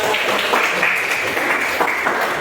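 Steady classroom applause, a continuous wash of clapping at moderate volume with no talk over it.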